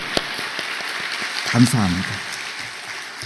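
A church congregation at a Friday worship service applauds the deaconesses and elders, a steady, soft wash of many hands clapping in a large room, while someone speaks briefly over it.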